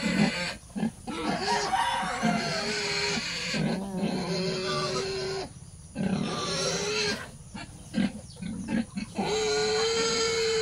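Pigs about eight months old crowd and jostle at a feeder on a farm, giving close, loud grunts and oinks in irregular bursts with brief pauses, and there is no talk.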